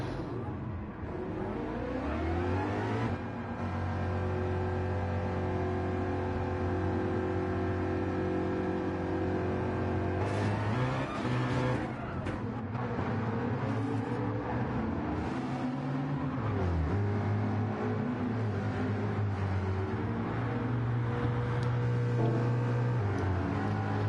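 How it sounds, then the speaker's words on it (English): GT3 race cars accelerate up the straight at Bathurst in a racing game, loud sustained engine drones climbing in pitch through gear changes, several cars layered together and close, with no talk over them. "The cars are on their way, heading up the straight for the first time."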